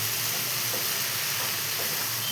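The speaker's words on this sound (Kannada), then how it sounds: "ಚೆನ್ನಾಗಿ ಹುರಿಯುತ್ತಿದ್ದೇನೆ." Capsicum and peanuts with salt, chilli powder and turmeric fry and get stirred in a pan, a continuous bright sizzle with soft scraping, steady and close, no speech.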